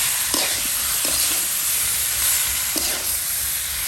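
Spices and mustard paste are stirred in a pan for a boal fish curry: steady sizzling frying with a few scraping strokes of the spoon across the pan, close and continuous.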